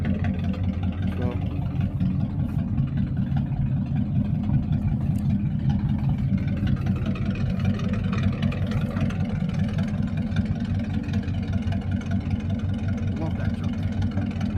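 A 1952 Ford F1 truck engine idles steadily after a cold start with the choke on, a loud, close, low rumbling throb that holds unchanged from start to finish.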